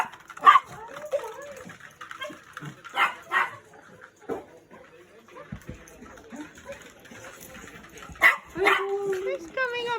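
An excited puppy barks and yips in short bursts at an arrival, with whimpers between, while people talk and greet it over the noise.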